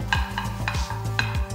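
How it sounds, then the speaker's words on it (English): Paneer, onion and capsicum fry with spices in a pan, a steady sizzle broken by rhythmic scraping strokes of a spatula stirring the pieces, close and without talk. "So frying these onion, capsicum and paneer separately adds another level of flavor."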